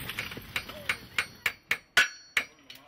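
A blacksmith's hammer strikes metal about ten times in a steady rhythm, each sharp clang ringing briefly, close and clear, in Yosemite.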